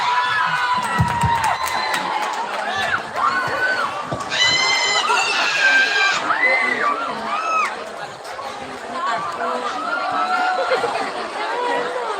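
A school talk show audience cheers, shouts and chatters excitedly for a K-pop dance performance, a dense crowd din with shrill whoops and high voices throughout, without clear clapping.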